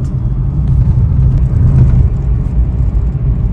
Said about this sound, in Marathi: तर मित्रांनो आता लागलेला आहे ट्रॅफिक एक्सप्रेस हायवेला